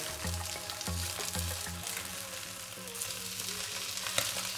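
Food sizzling steadily in a frying pan just after being flipped, a continuous close crackle with a few soft knocks and the faint hum of a background tone, no talking.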